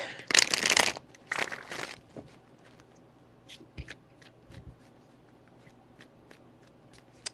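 A deck of tarot cards is shuffled in two quick riffling bursts close by, followed by softer taps and card handling. No one speaks.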